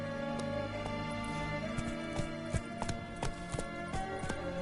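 Roach the horse's hooves clip-clop at a gallop in The Witcher 3, a quick run of sharp, evenly spaced hoofbeats over a steady game ambience and music bed, fairly close and clear.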